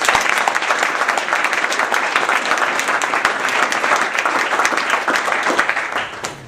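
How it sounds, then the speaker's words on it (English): Steady, full applause from a celebration audience for Patrick, dense continuous clapping from a large crowd sustained throughout before tapering off at the end. "So round of applause for Patrick."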